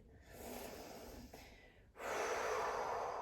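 Ujjayi breathing during a gentle seated yoga flow: a long, airy, throat-constricted breath, then after a brief pause a louder, rushing breath that holds to the end, close and with no talk.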